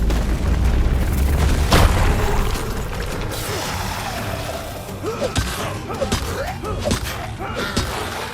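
A rock explosion in the video game RuneScape: Dragonwilds sets off a loud, booming blast early on, followed by scattered thuds and rumbling game noise.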